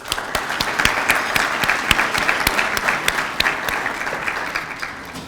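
A banquet audience honoring Tennessee teachers of the year applauds, loud, near clapping with distinct sharp individual claps standing out over the dense wash, sustained evenly throughout.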